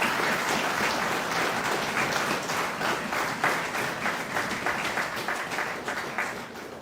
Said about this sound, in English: I want to pause and for us to recognize with a loud round of applause the officers and all members of the Guyana Defense Force